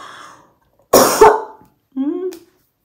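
A few harsh coughs and throat-clearing sounds, close by and fairly loud, with a short voiced grunt or hum afterward.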